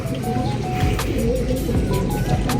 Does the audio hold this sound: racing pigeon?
yes